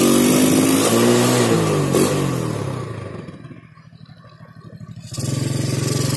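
A Yamaha Jupiter Z motorcycle engine revs loudly up close, rising then dropping to a rough idle before the throttle opens again with a buzzing, rattling exhaust.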